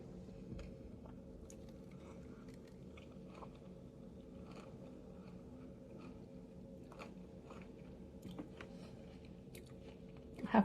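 Close-up biting and chewing of an unfamiliar fruit bought in Harbin, soft crunches and wet mastication repeating steadily over a low background hum, with a brief louder rustle at the end.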